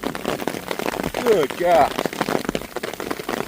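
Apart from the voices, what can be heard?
hail and heavy rain pouring down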